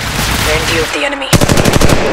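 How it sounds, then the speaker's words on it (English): Enemy gunfire in Apex Legends Mobile erupts close and loud as a rapid automatic burst, preceded by brief tonal game cues and short voice lines from the game. "Enemy fire."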